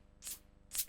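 Offbeat shaker built from white noise in a dance track, two crisp hissing hits spaced about half a second apart over a soft, faint ticking pulse.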